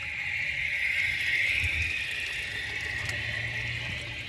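A 1988 Kilgore Apex toilet tank refills with water, a steady hissing rush of filling water that holds close and even throughout, with no talking over it.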